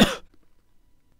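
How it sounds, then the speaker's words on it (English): A single short, sharp cough, close and loud, followed by near silence. "use trimming to remove this cough from the recording."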